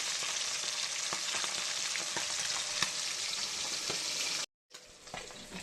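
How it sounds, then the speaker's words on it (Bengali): Fish fries in hot oil with a steady, bright crackling sizzle heard up close and alone, broken by a brief silent gap before the sizzling resumes more softly. "এই দেখো মাছ ভাজা হচ্ছে"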